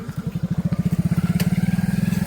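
A motorcycle engine chugs close by with a fast, even, thumping pulse that gradually firms up as the bike pulls near, a faint voice briefly in the background.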